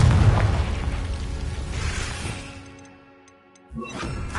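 A Confringo blasting spell explodes in Hogwarts Legacy with a loud, heavy boom that rolls out and fades over a few seconds, followed by a fainter second burst near the end.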